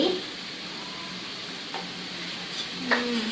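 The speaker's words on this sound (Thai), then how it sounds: "น้ำมันหอยลงไป เราจะใช้น้ำมันหอยนะคะ" Oyster sauce goes into a squid and holy basil stir-fry in a hot pan, giving a steady close sizzle with a few brief stirring scrapes and no talking.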